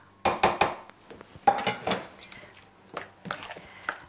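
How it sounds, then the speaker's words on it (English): A spoon stirring a potluck dish in a bowl, several quick clattering scrapes and knocks in uneven bursts, fairly close and clear against a quiet background. "And then just stir that up in here."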